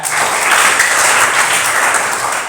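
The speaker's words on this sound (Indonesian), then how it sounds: "Tepuk tangan buat kita." A short burst of steady, dense audience applause, loud and close, with no voices over it.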